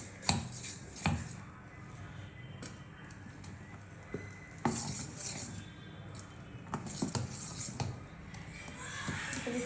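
Chana dal and urad dal paddu batter being stirred by hand, with irregular clinks, scrapes and soft knocks of a utensil against a bowl, close and fairly quiet, with no talking.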